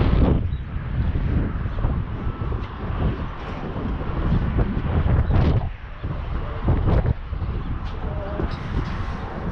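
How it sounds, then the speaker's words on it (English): Strong, hot desert wind buffets the microphone near a rock tower and boulder park, a loud rumbling roar that surges and drops in uneven gusts. "It's very windy though, it's hot and windy."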